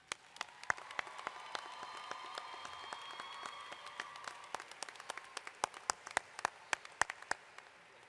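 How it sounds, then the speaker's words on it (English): Faculty at a College of Community and Public Affairs commencement receive applause: fairly quiet, scattered clapping with sharp individual claps standing out, heard from a distance in a large venue. "Please join me as we applaud their support of and dedication to the success of our students."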